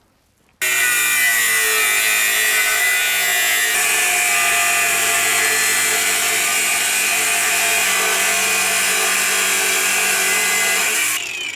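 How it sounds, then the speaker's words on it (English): An angle grinder fitted with a cutting disc slices across welds on a steel BBQ smoker, a loud, steady high-pitched whine running close and unbroken for about eleven seconds before cutting off abruptly. "Switch out another cutting disc. So I can just cut across and then get those welds"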